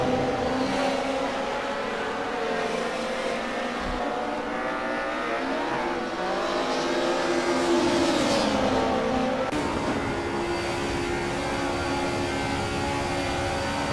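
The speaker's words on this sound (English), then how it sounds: "On board now with Mark Embry in the HRT Mercedes-Benz" HRT Mercedes-Benz race car in the Assetto Corsa sim racing game at Vallelunga, its engine roaring steadily and loudly from on board, rising and falling with gear changes and revs, alone without talk.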